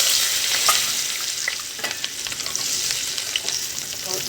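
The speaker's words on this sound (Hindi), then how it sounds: "अब हम 2 मिनट के लिए फ्राई करेंगे।" Chopped garlic and ginger fry in a pan with bay leaves and black pepper, a steady close sizzle with light crackles and the occasional stir, and no talking.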